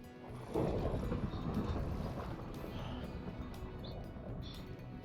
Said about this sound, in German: Warum ist jetzt ein Gewitter da?